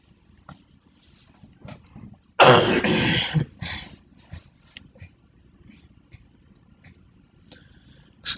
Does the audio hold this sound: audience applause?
no